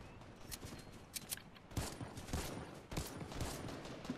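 Shotgun blasts in a video game, a scattered run of sharp reports and impacts at moderate level, fairly dense and irregular with no clear speech.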